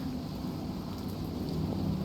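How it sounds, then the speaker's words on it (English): Nighttime rain falling on an airfield in the video game Plane Mechanic Simulator, a steady even hiss of rainfall with a low rumble underneath, continuous and without voices. "Out on the airfield, it's raining."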